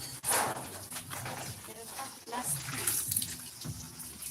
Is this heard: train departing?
no